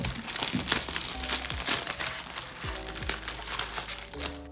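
A plastic bag of crochet stuffing from a crochet kit crinkles and crackles in repeated handling bursts, close-up, with faint background sounds and no clear talk.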